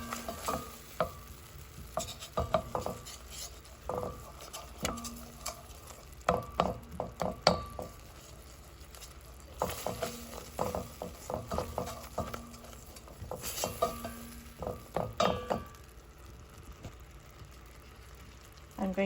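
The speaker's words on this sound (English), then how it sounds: "I will let that sizzle." Shallots and garlic paste sizzle and crackle in hot oil close up, with intermittent scraping and stirring sounds against the pan.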